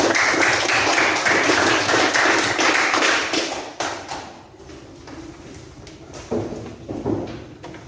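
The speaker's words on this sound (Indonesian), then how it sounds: "Mari kita berikan aplaus buat Bapak" A classroom audience of students gives applause for their teacher, a burst of clapping that starts loud and dense, then thins to scattered, fading claps.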